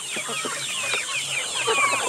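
Native free-range chickens cluck in short, soft, repeated calls nearby, with a steady high background hiss.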